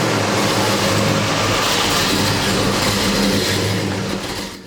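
A 1969 Chevy Chevelle Super Sport with a Holley carburetor is driven to warm up, its engine a loud, steady roar with broad road and wind noise throughout, easing slightly at the end.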